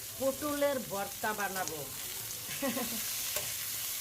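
Pointed gourd frying in a little mustard oil gives a steady, soft sizzle under a voice speaking in Bengali.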